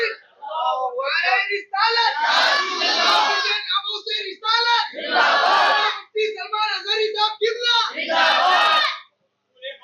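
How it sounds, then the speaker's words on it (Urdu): A sermon crowd shouts religious slogans in loud rhythmic call-and-response bursts, with a leader's voice alternating against massed chanting that swells and breaks off in turn. "حضور پاک صلی اللہ تعالی علیہ وسلم کی محبت میں نعرے لگائے"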